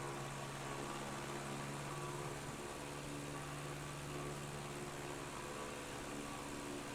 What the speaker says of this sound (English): Alright, so we can bring back the engine, I think, just a little bit here